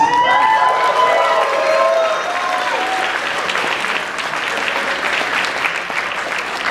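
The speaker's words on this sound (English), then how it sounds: "big round of applause for the big bees" Convention crowd at HarmonyCon 2024 applauding first-time attendees, a full, sustained burst of clapping with some cheering and whoops early on, steady and loud across the whole stretch.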